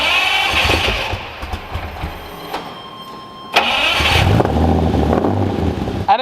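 A 1987 Lamborghini Countach 5000 QV in triple white starts up and revs loudly, with sharp bursts of throttle before settling into a rough, close idle.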